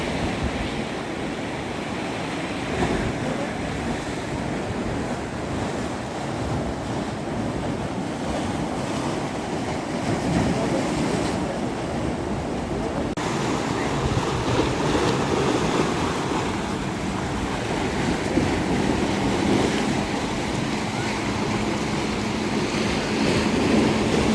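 Sea waves at Miramar beach in Goa roll in over the monsoon season as a continuous broadband roar, with steady breeze and wind rumble on the microphone throughout and no clear voices.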